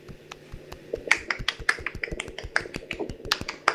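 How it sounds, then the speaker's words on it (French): Party guests at a Disney-themed evening giving scattered applause for a game winner: a small group of separate, sharp claps in an irregular rhythm, close and fairly loud. "Alors on peut l'applaudir."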